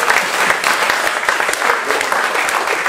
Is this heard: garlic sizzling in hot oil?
no